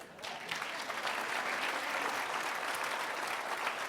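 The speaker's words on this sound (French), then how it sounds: "Applaudissez Wissem." An audience applauds Wissem at a town New Year's greetings ceremony, a dense, steady round of clapping from a sizeable crowd that swells quickly and holds for several seconds.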